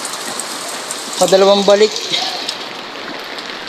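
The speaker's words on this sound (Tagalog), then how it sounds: "Inabot na kami ng ulan." Steady rain falls throughout during a trip hauling concrete slabs, a continuous wash of patter with a brief spoken remark over it midway.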